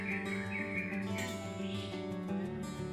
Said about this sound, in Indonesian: suara burung terdengar bersahutan